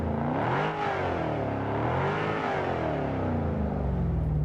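Ford Mustang engine in a racing video game, revving up and down in smooth rising and falling sweeps, loud and close with a deep steady drone.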